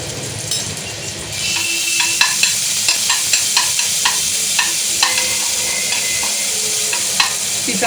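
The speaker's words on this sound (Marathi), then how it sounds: "तिचा कच्चापणा जाईपर्यंत आपल्याला हे हलवून घ्यायचं आहे." Ginger garlic paste frying in oil inside a pressure cooker for mutton curry, a loud continuous sizzle with quick repeated spatula scrapes and taps against the metal, close up.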